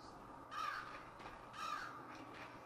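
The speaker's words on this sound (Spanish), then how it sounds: "Mira, hay un cuervo." Two harsh caws from a crow in the video game Limbo ring out about a second apart, fairly close and alone over a quiet, muffled ambient background.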